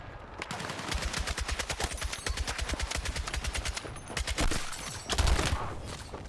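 Sustained automatic gunfire in Battlefield 6 rattles in rapid, steady bursts for several seconds, with a couple of louder, heavier shots near the end and no talking over it.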